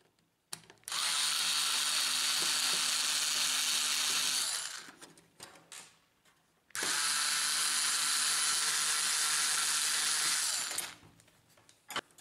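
A power screwdriver unscrews screws from a Brother MFC-L2700 laser printer during disassembly, with two sustained whirring runs of about four seconds each, close and loud, separated by a brief pause with faint handling clicks.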